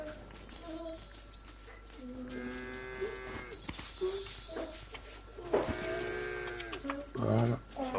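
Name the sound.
cows mooing in a video game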